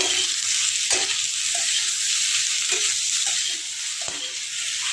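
Dried shrimp and potatoes stir-fried in a pan give a steady, close sizzle with a few sharp scrapes of a spatula, and no one speaks.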